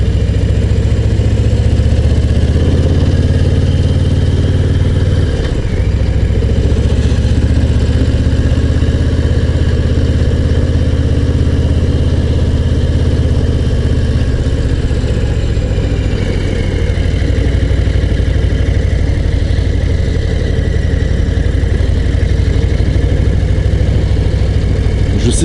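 A Harley-Davidson Low Rider ST motorcycle idles close by with a loud, steady low rumble that stays even and continuous the whole time, with no other sounds over it.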